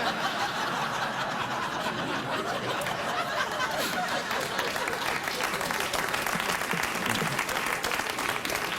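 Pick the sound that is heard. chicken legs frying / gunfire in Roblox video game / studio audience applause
studio audience applause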